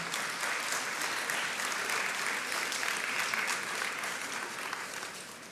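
Audience at a business session applauding themselves after a resolution passes, sustained dense clapping from many hands, steady and even, tapering slightly toward the end.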